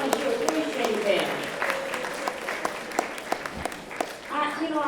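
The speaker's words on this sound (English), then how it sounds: "give them a round of applause and let them know how much you appreciate them" An audience claps in a moderate, uneven patter throughout while voices talk over it, some sounding close and some farther off.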